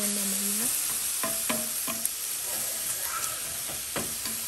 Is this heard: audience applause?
no